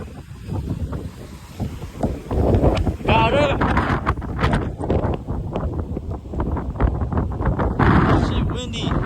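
Strong gusty wind from Hurricane Milton roars and buffets the microphone outdoors, loud and continuous with surging gusts, while a person speaks briefly.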